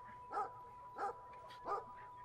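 A dog in the video game Brothers: A Tale of Two Sons barks three times at an even, unhurried pace, each bark short and fairly faint over a steady background hum.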